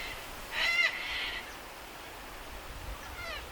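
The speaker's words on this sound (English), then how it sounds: "This is the bird life at Mary Pool in the morning." Morning bird life at Mary Pool, an outback waterhole where herons gather: a few scratchy, rising calls in a short burst near the start and again faintly near the end over a quiet outdoor background.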